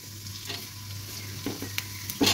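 Chopped onions frying in hot oil for a lentil mash, a soft steady sizzle with a few scraping stir clicks toward the end, fairly quiet and without talk.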